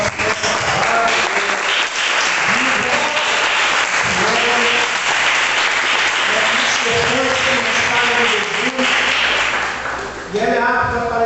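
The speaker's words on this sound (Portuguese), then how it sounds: "dê a melhor salva de palmas para essa palavra" A church congregation breaks into sustained applause, dense clapping that swells and continues, with some voices and music underneath.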